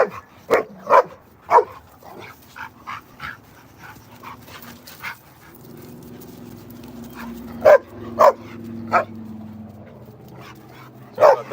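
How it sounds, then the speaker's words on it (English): Dogs bark in sharp, loud, separate bursts with gaps between, a few yips and panting in between, under a low background hum. "These dogs are going crazy."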